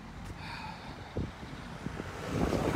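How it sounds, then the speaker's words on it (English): Cars and heavier vehicles rolling past a pedestrian crossing outside a school in Surrey, a steady low road rumble with a few short thumps and a swelling pass near the end, moderately distant. "Cars are going straight away."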